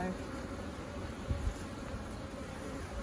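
Honey bees in an opened beehive during an inspection for American foulbrood fill the air with a dense, continuous buzzing hum, broken by a couple of soft low thumps.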